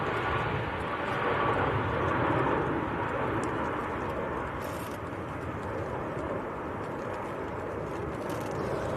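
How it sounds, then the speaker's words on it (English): A Boeing 787 Dreamliner climbing out after takeoff from Manchester Airport on a windy day, a broad, steady distant roar that swells slightly and then holds, with gusty wind in the background. "Always steady climb outs with the Dreamliners, isn't it?"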